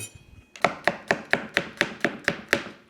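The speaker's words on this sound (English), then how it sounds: "we'll do nice fine slices" Fresh chilli is cut into fine slices with a knife on a board for a spicy pork belly stir fry: nine crisp, evenly spaced chops, close and clear, with no talking.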